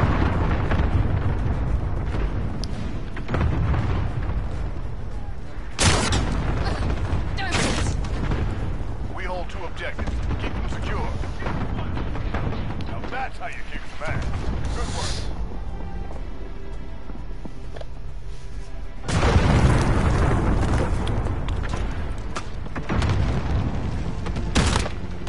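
Cruise missile explosions in Call of Duty: Modern Warfare land as several deep, heavy booms with rumbling tails, over steady battlefield noise and scattered gunfire. Radio-style voices speak between the blasts.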